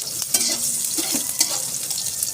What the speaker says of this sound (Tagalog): At ito, magsasatay na tayo.